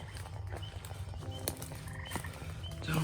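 Gray tree frogs call in Somerset County, giving rapid rattling croaks at a steady, moderate level, with no voices.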